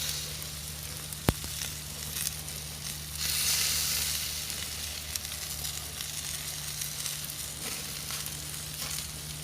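Food sizzles and fries steadily on an outdoor cowboy grill, a continuous close hiss with a low hum beneath and one sharp tick, swelling briefly louder midway.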